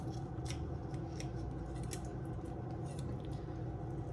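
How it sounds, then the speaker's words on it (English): Scissors or shears snip through squirrel ribs with quiet, crisp clicks and crunches at an irregular rhythm over a steady low background hum, faint and close. "I like to just cut right on the bottom of that last rib, both sides"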